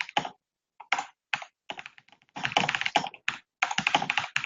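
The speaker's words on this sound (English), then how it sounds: "Feel free to chat, John, while I'm typing and getting this stuff shared out" Fingers type on a computer keyboard in rapid bursts of close, crisp key clicks, broken by short pauses, with no talking.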